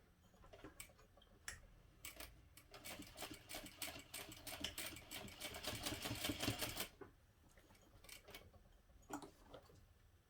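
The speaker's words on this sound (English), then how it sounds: "Top stitch through all layers as close to the fold as you can get" A sewing machine top stitches through all the layers of a backpack: a quiet, steady whirring run of rapid needle ticks that builds to a dense stretch, then stops, leaving a few scattered clicks.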